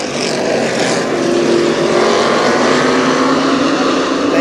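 Race cars roaring around the oval at Kil Kare Speedway under throttle, a loud dense engine drone holding steady and close throughout, no speech.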